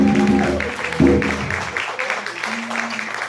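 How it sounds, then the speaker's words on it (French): A church congregation claps steadily as a dense, continuous wash of applause, starting under a sung or spoken voice that soon fades out. "Let us applaud the Lord."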